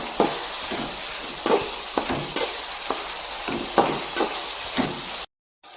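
Tomato, ginger, curry leaves and chilli sauté in hot oil for egg curry, a steady loud sizzle broken by repeated sharp scraping strokes of a spatula against the pan, then a sudden cut to silence.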